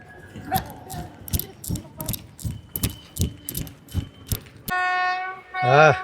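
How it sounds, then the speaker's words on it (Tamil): A train clatters over the rails in a rhythmic series of clacks, followed by a loud horn blast near the end. "ட்ரெயின் ஜேர்னி எப்படி இருக்கு சாம்?"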